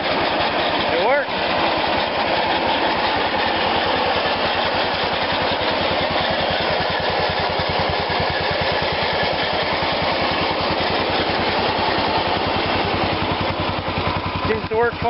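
A snowblower with a rusty chain runs steadily and loudly with a rough rattling engine drone that stays continuous throughout, and a person talks over the noise.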